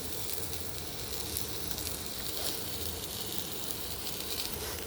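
Green chili and taro curry in a hot pan gives a dense, even hiss of sizzling as water is poured in to simmer, a steady close roar without speech.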